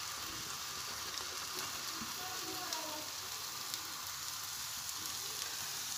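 Ridge gourd pieces tipped into a hot oiled pan, producing a steady, even hiss of sizzling frying that holds constant throughout at moderate loudness with no clear talk.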